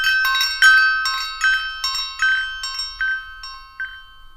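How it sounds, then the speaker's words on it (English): A bell rings in a rapid series of bright metallic strikes, each ringing out and overlapping the next, gradually softening toward the end, heard alone without voices. "as the doorbell rang."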